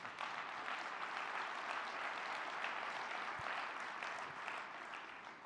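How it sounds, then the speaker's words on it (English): Sustained audience applause, a dense steady clatter of many hands clapping throughout. "That's got to deserve a round of applause."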